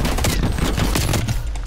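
Loud, continuous video game gunfire in Call of Duty: Black Ops Cold War, dense overlapping shots rattling in rapid bursts throughout, with no voices.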